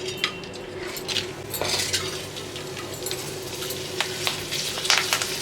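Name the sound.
curd chillies frying in oil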